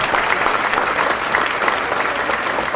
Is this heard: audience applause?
yes